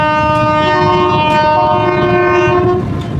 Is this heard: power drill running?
no